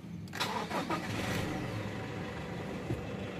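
A used Toyota Hilux pickup engine cranks briefly and catches, then settles into a steady, smooth idle, fairly quiet and close.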